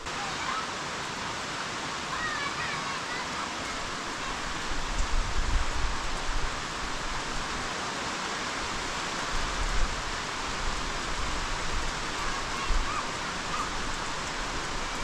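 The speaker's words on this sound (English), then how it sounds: "I'm gonna wait for a moment for the rain to go a bit lower." Steady rain falls across a sawmilling site as a constant broadband hiss, with faint low rumbles rising briefly midway and no one speaking.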